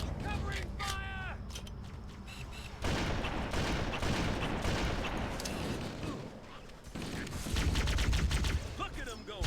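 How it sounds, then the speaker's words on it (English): Rapid gunfire and bursts of automatic weapons during a firefight in the video game Halo: Combat Evolved on PC, loud and continuous across the stretch, with a voice talking intermittently over the shooting. "Covering fire."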